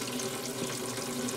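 Tap water runs steadily from a faucet while a motorhome fresh-water line is flushed, a soft, even hiss of flowing water with no voices, fairly quiet throughout.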